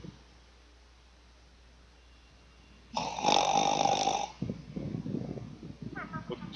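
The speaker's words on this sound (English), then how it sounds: "What's with all the snoring, guys?" Loud snoring-like rasp in a Grand Theft Auto 5 multiplayer match, one sustained burst of about a second and a half, followed by rougher noisy sounds.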